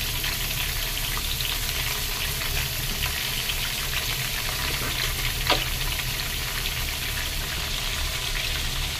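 Potato pieces for a Bengali mutton curry fry in oil with a loud, dense, unbroken sizzle close up, steady throughout with a faint stir or two.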